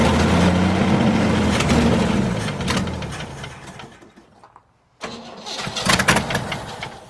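Engine of a 1967 Chevy C50 farm truck, long abandoned, running roughly: a loud, steady roar that surges up and sags back down, fades briefly to near silence, then catches and revs up again.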